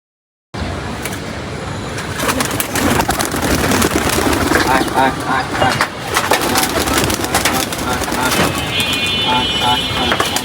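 Domestic pigeons, a female and a male among several young birds, coo in a home loft over a steady bed of background noise, their soft repeated calls running alongside someone talking close by.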